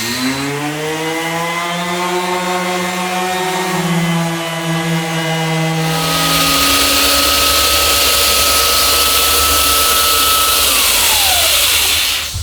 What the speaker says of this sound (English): Now that the bog is down, time to sand it down to make it nice and smooth.